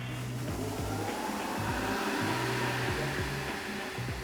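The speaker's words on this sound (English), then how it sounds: "lower the machine down, this time turn the suction on, and now you'll be able to pick up that waste" A Kärcher BR 35/12 C scrubber dryer runs with its suction on, a steady loud whirring motor drone with a low wavering hum, close and continuous, without speech.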